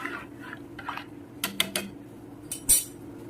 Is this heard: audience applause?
no